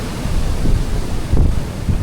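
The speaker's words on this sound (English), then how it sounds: "Water coming through the channel there" Surf-fed water surges through a narrow channel in a rock tide pool at Big Bay, Toco. Steady, close, wind-buffeted rushing swells twice into louder pulses, with no voices.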